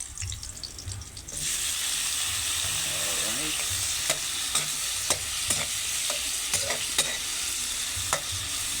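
Oil sizzles and crackles steadily in a hot pan as tomatoes sauté after a quiet start, with a spoon scraping and stirring now and then.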